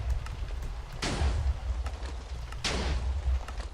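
A Minecraft TNT cannon built from redstone fires repeatedly, with two heavy booming blasts about a second and a half apart over a rumbling background, and lighter thuds between them.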